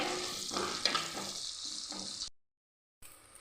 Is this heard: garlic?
yes